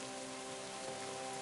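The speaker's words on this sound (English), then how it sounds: "Damn rain." Steady rain hiss in the video game KCD fills the scene, a dense even patter with a faint tonal hum underneath, continuous and fairly soft throughout.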